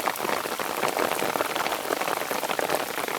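Heavy, unseasonal rain pours down with water running hard, a dense, steady hiss of drops striking surfaces close by, loud and unbroken with no voices.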